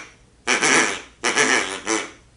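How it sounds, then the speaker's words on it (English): A wooden goose game call blown twice, each a loud, raspy honk lasting under a second, close and alone in a quiet room. "then how about goose?"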